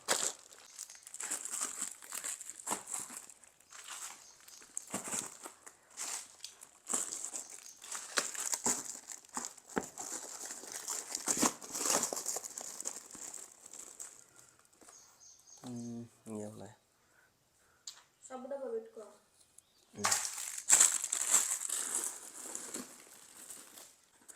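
Plastic covers crinkle and rustle in repeated handling bursts while luggage is packed for a trip to the Gulf, close and fairly loud, with a brief pause and some voice-like tones partway through.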